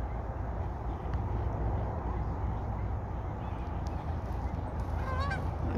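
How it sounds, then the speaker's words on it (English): Canada geese honking on a lake, a steady dense chorus of honks from a passing flock under a constant rumbling background, with no clear talk. "Look at all those Canadian geese go by."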